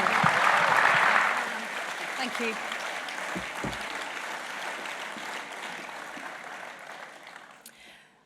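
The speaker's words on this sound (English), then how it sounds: "one last round of applause for these guys" An audience at an awards celebration bursts into loud applause that tapers to a softer patter, with a voice briefly speaking over it.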